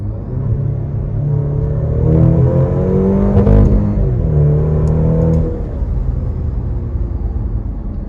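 A Maserati Grecale Modena 4-cylinder hybrid accelerates hard, its engine note climbing in pitch through the gears with a loud, close rumble, then easing off at a steady cruise.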